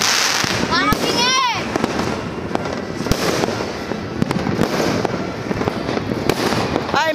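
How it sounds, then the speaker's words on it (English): Fireworks crack and burst at a New Year celebration, with dense rapid bangs, crackling and a few whistling rockets rising, loud and nearby, while people shout and exclaim over the noise. "mga fireworks!"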